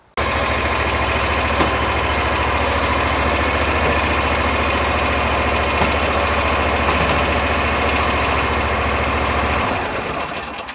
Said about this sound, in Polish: Jednostką napędową Ridera RC318T jest silnik Brixa o oznaczeniu 7200.